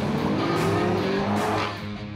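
A Ford Falcon GT, Australia's most powerful production Ford, with a V8 engine, drives past. A loud engine roar rises with a brief tire squeal, then fades slightly at the end.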